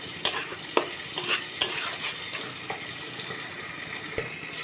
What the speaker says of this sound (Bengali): বন্ধুরা দেখুন এর মধ্যে আমি জল দিয়ে দিয়েছি মাংসটাতে।